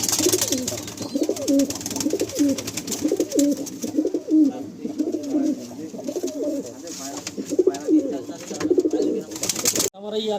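Pigeons in a high-flying pigeon loft coo steadily and repeatedly throughout, close and fairly loud, with overlapping soft throaty calls forming a continuous rhythmic murmur before a brief drop near the end.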